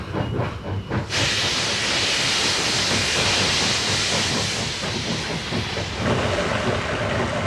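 A Chinese-built Jianshe steam locomotive, made from the 1950s, runs with a loud, steady hiss of steam and rumbling chugging that starts abruptly after a brief low opening and continues close and strong throughout.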